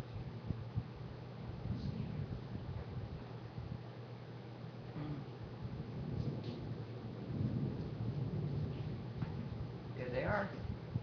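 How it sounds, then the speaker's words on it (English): During a Florida thunderstorm in Clearwater, low rumbles of thunder roll under a steady rain hiss, with a person talking at moments over the storm. "Thunder Boomers here in Clearwater."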